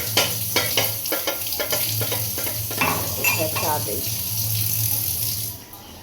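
Singara pastries frying in hot oil for a home snack: a loud, continuous sizzle with clattering stirring and scraping at the start. The sizzle then settles into a steady hiss before fading at the end.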